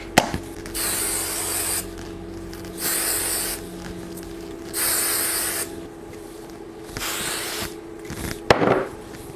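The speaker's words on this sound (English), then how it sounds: "I'm gonna use a little bit of my volume hairspray to finish out the look." Volume hairspray misted over a curly chestnut-brown wig in four separate hissing bursts, each lasting around a second, with quiet pauses between and a short rustle at the end.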